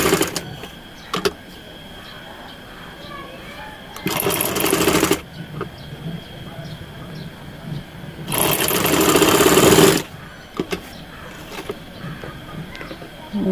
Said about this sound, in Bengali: ঘুরিয়ে এই সেটটা সেমভাবে সেলাই করে নিব